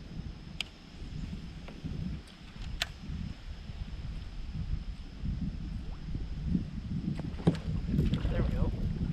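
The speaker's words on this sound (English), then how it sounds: "The wind is ripping." Strong wind buffets the microphone on a Florida river during a fishing outing, a steady low roar with boat and water noise underneath, close and continuous.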